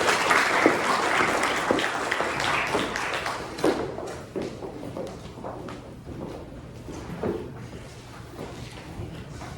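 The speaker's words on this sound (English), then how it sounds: "let's give them a round of applause" Audience applause welcoming four panelists onto a stage at a museum event on Native American art and literature, steady dense clapping from a crowd that thins slightly toward the end, with no talking over it.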